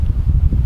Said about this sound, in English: So, you know, it's also windy. You can see how everything is blowing in the wind.